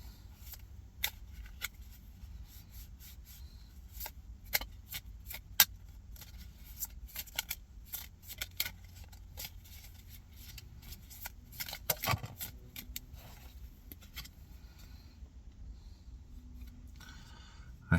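Tarot cards being shuffled and pulled produce soft, irregular flicks and snaps, close and fairly quiet, with short louder riffles scattered throughout and no talking.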